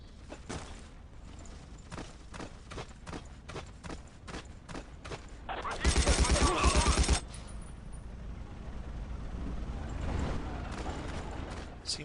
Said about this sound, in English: The assault gun also has a really distinctive noise, particularly for the Russian version